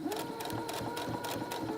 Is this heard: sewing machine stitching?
yes